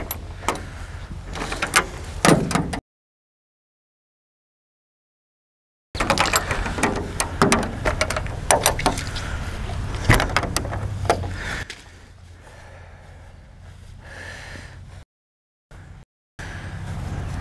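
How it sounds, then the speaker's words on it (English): The latches are undone one after another around a Cub camper trailer, giving a series of close clicks, clacks and metallic snaps in bursts, separated by brief silent gaps. "Then we undo the latches all the way around."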